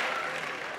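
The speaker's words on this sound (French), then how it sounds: "tu sais pourquoi ils ont applaudi?" Audience applause from a crowd, a dense steady wash of clapping heard close and fairly loud, with no voices over it.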